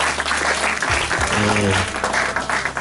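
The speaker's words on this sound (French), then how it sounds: "Donnons encore une acclamation au Seigneur." A church congregation applauds in acclamation of the Lord after a sermon, dense steady clapping filling the room with some low voices and musical tones mixed in beneath.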